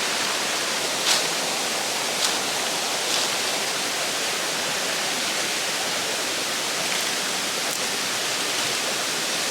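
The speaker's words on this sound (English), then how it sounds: "Under the waterfall." A massive waterfall roars as a dense, constant wash of broadband noise, loud and close, with a few faint brief taps over it and no voices.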